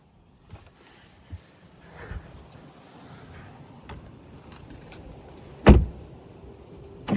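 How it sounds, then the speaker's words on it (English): Soft electric motor hum of a 2025 Porsche Cayenne E-Hybrid's memory seat sliding back and steering wheel rising, faint and steady inside the cabin, with a few light clicks and one sharp thump near the end. "the last memory position of the seat will move back, and then the steering wheel will move up to the last memory position"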